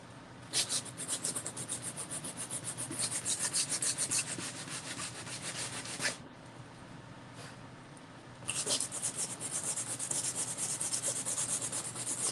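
Sanding a painting surface by hand: steady, close rubbing strokes in long continuous runs, a short pause, then the scraping resumes, loud and alone with no talk.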